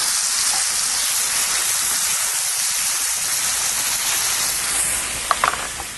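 Peaches sizzle steadily in a hot pan for a grilled peach cobbler, a loud, continuous broadband hiss with a few sharper crackles near the end and no talking.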